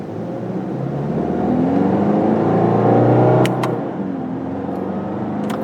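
A 2022 Subaru Impreza Premium hatchback with a CVT in manual mode accelerates through simulated gears, a steady engine drone rising, then dipping at a shift, heard from inside the cabin with two faint clicks.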